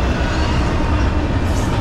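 A CSX or Norfolk Southern freight train led by a rebuilt Dash 9 locomotive, heard as a steady, loud broadband rumble and rolling rail noise without any break, no voices present.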